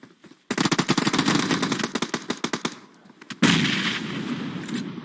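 Gunfire in a shooter video game scrim match crackles in rapid automatic bursts, loud and close, followed after a brief pause by a denser, sustained barrage.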